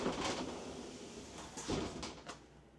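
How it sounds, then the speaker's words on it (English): Sliding glass shower door in a 2025 Jayco Eagle HT 230MLCS RV, moved along its track: a few quiet rolling slides and soft knocks over about three seconds, close by, with no talk. "And it's a sliding glass door."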